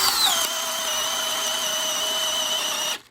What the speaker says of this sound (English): This is what Bosch calls the Freak, and it is a 1/2-inch impact driver